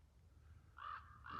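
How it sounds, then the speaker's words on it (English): Two loud caws from a crow during an autumn hike near Nederland, Colorado, each a short harsh burst, the second starting just as the first fades, over quiet outdoor background. "Crow's doing his thing."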